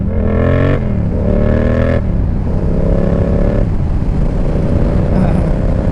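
A motorcycle engine revs hard through a power wheelie, loud and close, climbing in pitch across quick gear changes with brief drops between them, then holding a steady higher drone under wind rush.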